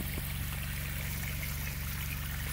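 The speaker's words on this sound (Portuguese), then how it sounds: "a água já vem descendo ali tudo" Flood irrigation water driven by a motor pump flows steadily down across a field, a continuous close rushing trickle with the low, even throb of the engine running underneath.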